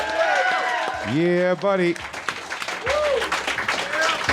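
A podcast studio audience claps and cheers for comedian Big J Oakerson as he arrives. A voice calls out over the start, then a dense, steady wash of applause carries on to the end.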